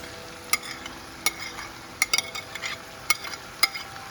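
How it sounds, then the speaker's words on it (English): Saltfish sizzling in a frying pan for ackee and saltfish, a steady soft hiss broken by sharp scraping clicks of a spoon stirring against the pan, close and without talk. "I'm gonna go ahead and add my saltfish."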